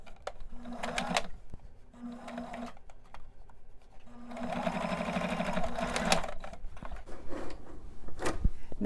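A sewing machine top-stitches pants in several bursts of rapid, even mechanical stitching, up close, with brief pauses and small clicks between runs.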